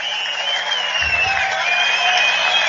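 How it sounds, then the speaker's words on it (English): A stadium crowd roars steadily with cheers and applause, a dense wash of noise that swells slightly over a few seconds at a San Francisco ballgame. "Wow, the crowd likes that."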